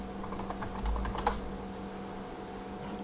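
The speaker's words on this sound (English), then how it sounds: "I'm going to type his password in." Quick, close clicks of a computer keyboard as a password is typed into a Windows Server 2008 login, a short burst of keystrokes over faint room hum.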